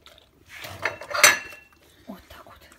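A plate being washed at a kitchen sink: a few clinks and scrapes of crockery with faint running water, quiet and close.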